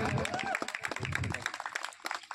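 An audience at a Bhim Jayanti dance competition claps for the third-prize winners, a dense patter of hands that continues under an announcer speaking over a microphone.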